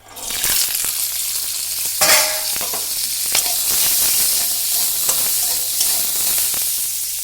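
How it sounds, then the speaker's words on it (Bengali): Winter vegetables fry in oil in a pan, making a loud close sizzle with occasional clinks and scraping stirs, steady throughout. "ভেজে নেবো"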